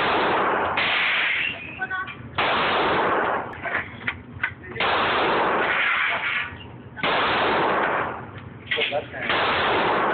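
Glock 19 pistol fired at a shooting session: several loud, sharp bursts with long, booming tails, spaced a few seconds apart. Voices talk in the gaps between shots.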